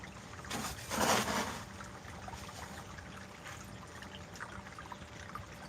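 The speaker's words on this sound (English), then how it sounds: "she likes the water sound" Water runs steadily through a gold sluice box while material from Missouri is processed, giving a constant gentle rushing trickle with a brief louder splash near the start.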